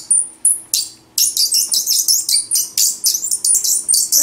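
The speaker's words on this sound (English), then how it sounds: "It's a mockingbird whistle." A mockingbird sings bright, rapid whistled phrases, short bursts repeating in quick succession, close and clear against a quiet background.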